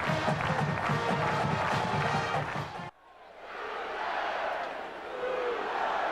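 Sellout college football stadium crowd in Norman, Oklahoma, before Kansas State versus Oklahoma, roaring loudly, then cutting abruptly to a softer, more distant cheering swell that rises again.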